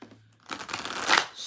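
Tarot cards being shuffled by hand, a papery rustle and flutter of rapid card riffling after a brief quiet start, close and continuous, with no talk.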